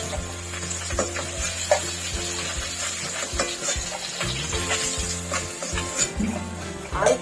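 Pieces of rohu fish fry in hot oil, a constant loud sizzle with occasional stirring clinks and scrapes close by, with no voice over it.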